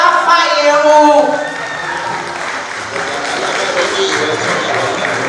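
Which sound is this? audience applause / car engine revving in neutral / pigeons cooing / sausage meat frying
audience applause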